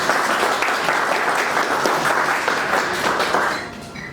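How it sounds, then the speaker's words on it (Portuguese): Audience at a lecture about Fabry disease gives steady, full applause for Renato Padilha, dense clapping that holds and then tapers off near the end. "Uma salva de palmas, então, para o nosso amigo Renato Padilha"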